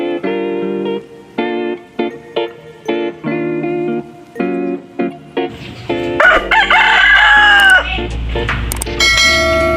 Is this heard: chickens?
yes